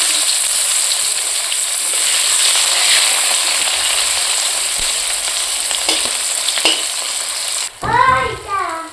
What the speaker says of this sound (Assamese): তেলখিনি গৰম হৈছে এইখিনি পিঁয়াজ দিছোঁ